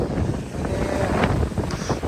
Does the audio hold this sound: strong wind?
yes